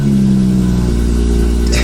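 A BMW 340i with a B58 engine and a new downpipe runs right after starting, giving a loud, close, steady idle with a deep, even hum through the exhaust and no talk over it.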